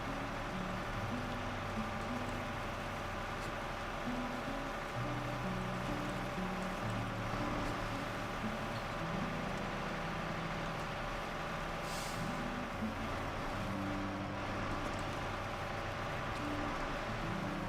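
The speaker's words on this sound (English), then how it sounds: "Like, I have to turn down my volume just because that engine is so loud." A loud truck engine in a simulation video game drones steadily and continuously throughout, with a deep rumbling hum and occasional hiss.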